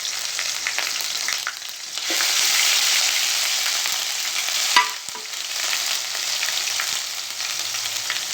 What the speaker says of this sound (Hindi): मैंने 2 चम्मच इसके अंदर लहसुन अदरक का पेस्ट डाल दिया है और इसको थोड़ा सा तड़का लूँगी मैं।